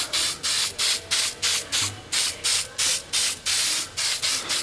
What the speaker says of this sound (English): I'm gonna hit this with some acetone, take all the paint off, and then polish it up maybe.